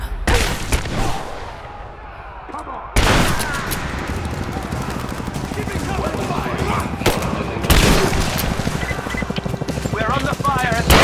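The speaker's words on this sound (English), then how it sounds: "We're under fire at the end of the village." Gunfire in Rise of the Tomb Raider at the end of a village, with loud bursts of automatic shots and booms that cut in sharply, pause, then resume heavily while voices shout over the battle.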